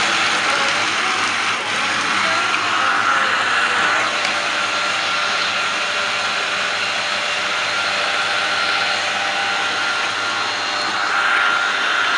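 A kitchen blender whirs loudly and without a break as it struggles to mix a thick Indonesian peanut gado-gado sauce, with no voices over the motor.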